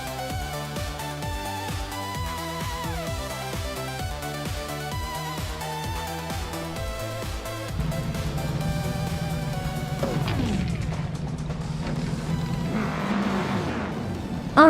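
Vintage race cars in a video game launch off the start at Autodromo de Antioquia, a pack of engines revving and droning loudly with rising pitch, then a dense roar of many cars accelerating together, alone without talk.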